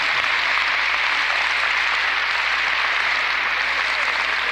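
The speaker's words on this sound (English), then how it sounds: "Let's give him a warm round of applause." Warm, sustained round of applause from an audience at a lecture gathering, dense and even throughout with no talking.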